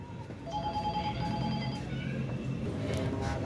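A telephone rings in a busy second-hand shoe stall at Pasar Poncol market in Jakarta, its tones repeating steadily over loud crowd and market background noise.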